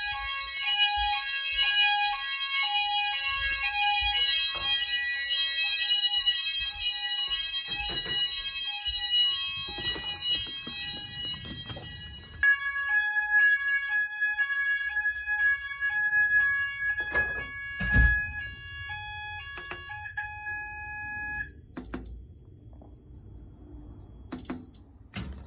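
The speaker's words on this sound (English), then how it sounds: "now it's time to test the Soteria smoke detector in the living room" A Soteria smoke detector in a living room sounds its alarm during an Apollo XP95/Xpander house fire system test, a loud steady electronic beeping and warbling tone that carries on through nearly the whole stretch, with some clatter and handling noise partway.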